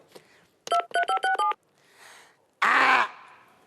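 A telephone keypad dials a rapid run of six or so beeping tones, followed by a short burst of noise.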